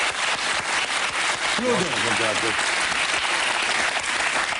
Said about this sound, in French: Claude ou Marc Van Drebroek, que je vous demande d'applaudir, qui est notre invité également ce soir.